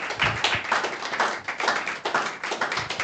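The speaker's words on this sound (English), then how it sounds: "please let's give our discussants a round of applause." A room full of people claps steadily at the end of a panel discussion, a dense continuous round of applause with no voices on top.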